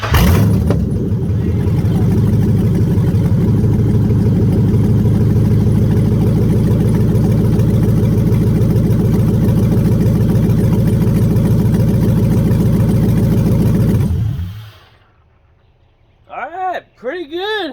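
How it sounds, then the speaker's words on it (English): An LS V8 swapped into a Chevrolet C10 truck, started for the first time without O2 sensors, runs loud and rough at a steady idle for about fourteen seconds before shutting off, followed by someone speaking. "I'll prime it up again. I'm just jumping the starter for now."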